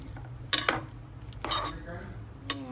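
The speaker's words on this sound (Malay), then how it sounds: "Lepas tu boleh stir ingredients." A spoon stirs ingredients with milk in a cooking pot for mash. Three short, close scraping and clinking strokes against the pot come at roughly one-second intervals over a low background hum.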